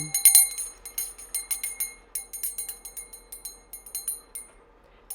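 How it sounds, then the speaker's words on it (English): A small bell is struck repeatedly in a bell clearing ritual for protection, giving bright metallic rings that come in quick rhythmic clusters and decay into a shimmering sustain, close and clear with no talking. "bell clearing. Bell clearing for protection."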